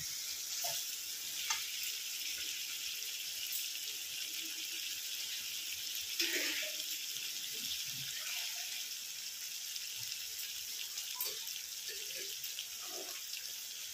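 Water is poured into a simmering potato curry, aloo dum, in a pan, making a low steady hiss and faint sizzle with a few soft clinks and stirring noises. It sounds close and moderately quiet, with no talking.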